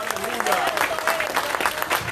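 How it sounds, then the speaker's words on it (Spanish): A church congregation in the Bronx claps together during a Spanish-language sermon, a short, busy round of applause with voices mixed in and a sung or spoken tone drifting over it. "Dar un aplauso a Cristo en esta hora."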